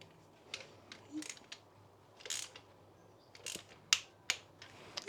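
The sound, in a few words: click of Triumph Bonneville 790 engine starter motor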